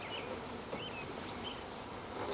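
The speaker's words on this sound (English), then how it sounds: "It's pretty cool, and this is a lot of bees." A large swarm of honeybees being installed from a package makes a dense, continuous buzzing close by, with individual bees whining past. No one speaks.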